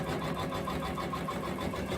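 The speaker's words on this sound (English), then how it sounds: "this is our computer numeric control sewing machine" A computerized CNC quilting sewing machine runs steadily in a home workshop, a continuous mechanical whir with fast rhythmic stitching pulses at moderate level, no voices over it.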